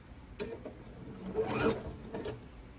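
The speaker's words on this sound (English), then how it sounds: "Now I'm just going to turn it so that I can do my stitching on the other side." A sewing machine stitching half square triangles in short, quiet bursts of rapid needle chatter, the longest near the middle, close by and without talking.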